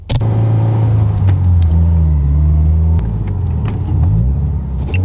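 A car drives steadily on the road, its low engine rumble continuous and loud throughout, with a few brief clicks and knocks from inside the cabin.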